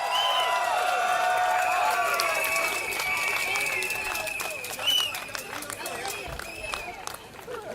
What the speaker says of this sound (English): Young people, give yourselves a round of applause.